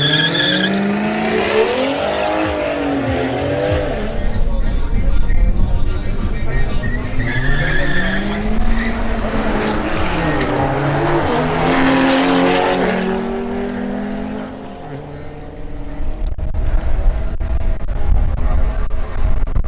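At a drag racing event, a BMW M440i xDrive launches with squealing, skidding tires and a revving engine that rises and falls through gear changes, loud and continuous, while an announcer talks over it.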